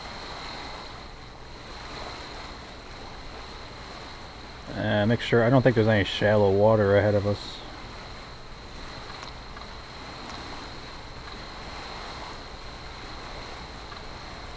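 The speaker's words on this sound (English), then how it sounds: "at least we have some wind this time around" Wind and water rush steadily and evenly past a yacht racing at sea in the Sydney to Hobart race, with a few seconds of someone talking over the constant hiss.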